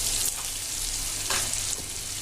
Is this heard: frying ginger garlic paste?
yes